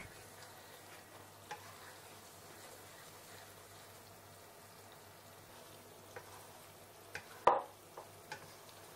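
Garlic and onions fry for sambal with a quiet, steady sizzle, broken by a few sharp clinks of stirring and one louder scrape near the end.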